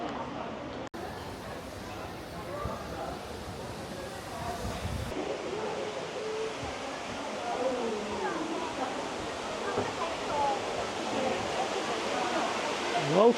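The world's tallest indoor waterfall in the Cloud Forest dome roars as a steady, broad rush of falling water that fills the space, with people talking over it.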